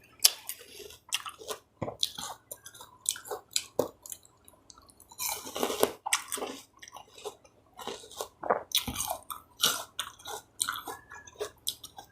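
Close, wet chewing and crunching of sour bilimbi fruit doused in fermented fish sauce, with repeated bites and squelchy mouth sounds in a steady irregular rhythm and no talking.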